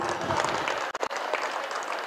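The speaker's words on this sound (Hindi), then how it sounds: "तालियों की आवाज चाहिए" Sustained applause from spectators at a local league cricket match, dense and steady clapping with a couple of brief dips, crowd noise throughout.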